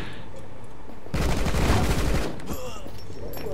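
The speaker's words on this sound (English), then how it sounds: "Why do I keep getting shot?" Gunfire in the video game Rocketbirds: Hardboiled Chicken, a loud dense burst of rapid shots lasting about a second, then fading into quieter game sounds.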